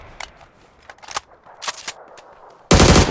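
PUBG weapon fire: scattered sharp shots and short bursts at moderate distance, then a sudden loud, sustained blast of close gunfire at the end, with no voices.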